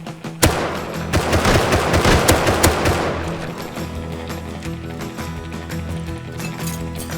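Gunfire in the survival video game Rust: a dense burst of loud, rapid shots over the first three seconds, then quieter scattered mechanical clicks and distant pops.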